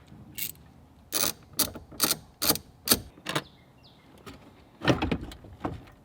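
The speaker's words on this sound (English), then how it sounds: "And then remove 4 10mm bolts." A ratchet wrench backing out 10mm bolts holding the stock head unit of a 2020-2023 Toyota Tacoma, a series of quick close clicking bursts separated by short pauses, alone and fairly quiet.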